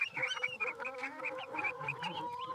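Cartoon farm chickens cluck and chatter in a busy, overlapping stream of short calls that are fairly soft and continuous. No one talks over them.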